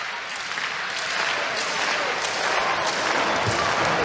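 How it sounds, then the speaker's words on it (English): A crowd at a men's college volleyball match between Hawai'i and Stanford cheers and applauds, a dense, sustained roar of clapping that swells slightly toward the end. "the crowd trying to turn up the volume knob here"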